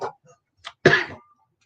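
A speaker recovering from flu gives a short throat-clearing sound, then a louder, harsher cough that trails off, close to the microphone with no talking.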